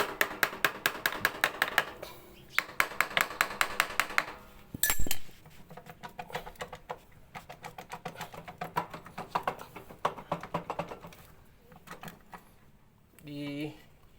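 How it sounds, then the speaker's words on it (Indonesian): Hammer tapping on an engine part of a Yamaha Vega ZR motorcycle during cam chain replacement, a rapid series of sharp metallic knocks in bursts, with someone talking between them. "kita ketok begini menggunakan palu"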